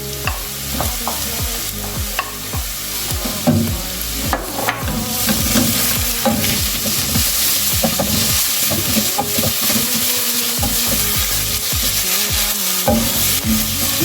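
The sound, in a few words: garlic cooking with softened onions in a pan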